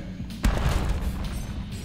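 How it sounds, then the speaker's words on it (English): An explosion in the video game Enter the Gungeon hits as one loud, sudden boom with a deep thud, then a short rumbling tail fading under low game background noise. "apparently that counts as an explosion"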